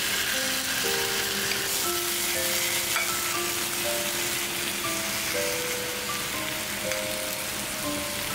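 Pollock (dongtae) fish pan-frying with steady, even sizzling throughout, a constant bright crackle with faint tonal kitchen hum underneath, close and alone with no voices.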